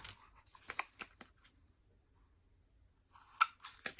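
Scissors snip through paper and card while a scrapbook page is trimmed around a template, giving a cluster of quick, close crisp cuts, a quiet pause, then another burst of snipping.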